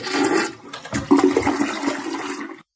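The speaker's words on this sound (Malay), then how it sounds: "Tiba-tiba kami mendengar bunyi flush air." A public restroom toilet flushes once, a loud close rush of water that surges, gurgles and drains before cutting off abruptly.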